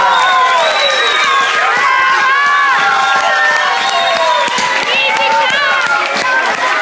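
A choir's audience at a December gathering bursts into loud, continuous applause and cheering, with excited shouts and voices layered over the clapping throughout.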